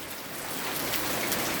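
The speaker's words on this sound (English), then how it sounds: "It's raining really hard" Heavy rain pours down in a dense, steady hiss that stays close and continuous throughout the short stretch, with no voices.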